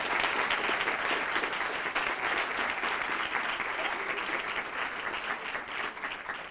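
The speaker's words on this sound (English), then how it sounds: "So could you give these organizations a round of applause?" An audience at a panel event on policy and planning applauds with dense, steady clapping that fills the room at a constant level from start to finish.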